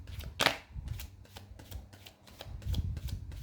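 Tarot cards being shuffled by hand, a series of quick soft riffling bursts in an irregular rhythm, quiet and close, with a brief low rumble near the end.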